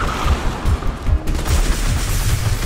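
Rapid bursts of tactical shotgun fire in a Fortnite-style animated battle, a string of close, heavy low thumps repeating roughly every quarter second over a dense roar of background noise, with no talking.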